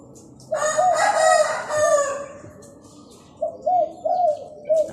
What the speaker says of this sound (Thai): นี่เสียงขันครับ